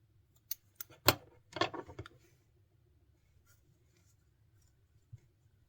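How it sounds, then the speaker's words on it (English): Scissors snip through crochet yarn with a few quick, close cuts in bursts, then go quiet apart from one faint click near the end. "you can cut the yarn"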